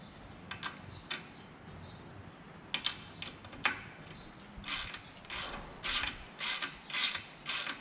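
Propeller blade clamp bolts being snugged with a wrench give a series of crisp ratcheting clicks in short bursts, quiet and close, growing more regular toward the end.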